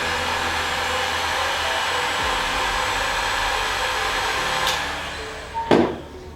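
A heat gun reheating Aquaplast-T thermoplastic splinting material blows with a steady, loud whooshing hum. Near the end it falters, and a couple of brief knocks and handling sounds follow.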